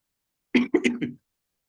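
A person gives a short burst of three or four rough coughs and throat clears, close and fairly loud, surrounded by silence.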